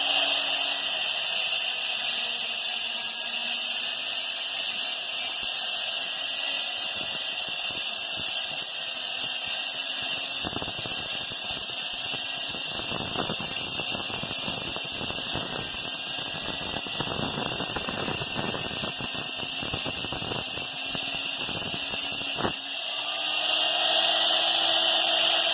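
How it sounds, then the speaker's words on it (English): Diamond cutoff wheel cutting fire agate stone, a loud sustained high-pitched whine and hiss with bursts of gritty grinding as the blade bites into the stone, and no talking. "It's really remarkable the amount of work you can do with a good diamond cutoff wheel."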